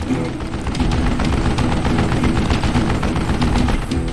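A machine gun in Call of Juarez Gunslinger fires in a loud, continuous rapid burst of shots lasting several seconds, alone without talk.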